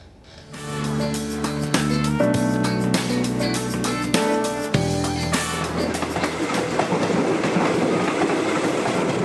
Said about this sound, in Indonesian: Getaran dan suara gemuruh yang timbul saat kereta melintas memberikan pengalaman unik dan sulit dilupakan